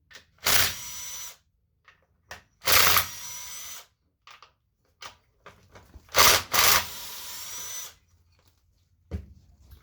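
A power tool removes the six bolts holding the pressure control solenoid on a 2005 Acura TL transmission during a teardown, firing in several short close whirring bursts separated by quiet gaps and faint clinks.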